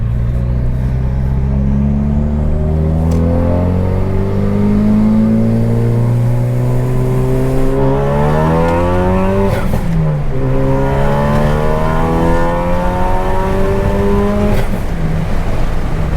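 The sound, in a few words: 2017 Ford Focus RS accelerating hard onto an on-ramp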